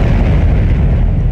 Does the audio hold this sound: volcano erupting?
yes